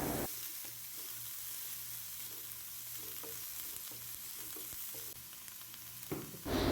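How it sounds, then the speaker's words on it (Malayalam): Sliced onions sautéing in hot oil in a pan, a quiet even sizzle with faint stirring ticks, louder bursts at the very start and end. "നമ്മുടെ പാനിലെ എണ്ണ ചൂടായി വന്നിട്ടുണ്ട് നമുക്ക് ആദ്യം സവോള ഇട്ട് കൊടുത്ത് വഴറ്റി കൊടുക്കാം"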